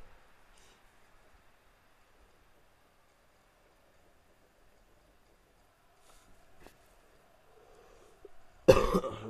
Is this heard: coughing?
yes